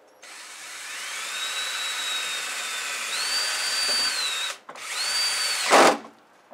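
Whining power drill drives self-tapping screws into a snowblower housing, two sustained close runs with rising pitch, a brief pause between them, and a sharp burst as the screw seats.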